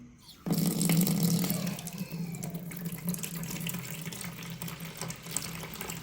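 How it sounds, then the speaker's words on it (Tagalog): Water pours steadily into an egg incubator, starting abruptly and running continuously with a slight drop in loudness after the first second. "Lagyan lang natin siya ng tubig."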